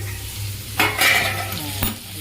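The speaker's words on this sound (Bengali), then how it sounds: "আলুটা ভাজা হয়ে গেছে।" Potatoes frying in a pan and stirred with a utensil, a steady sizzle running underneath with two louder bursts of scraping and stirring close up.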